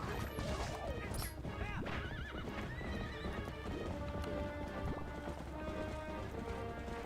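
Rapid hoofbeats of a galloping horse with repeated loud neighs and whinnies over a busy, layered soundtrack in The Legend of Zelda: Twilight Princess HD.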